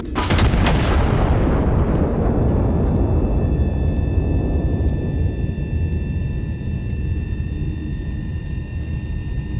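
A massive artillery gun in the game Iron Nest fires one huge, loud blast whose deep rumbling roar slowly decays over several seconds, with faint high tones ringing above.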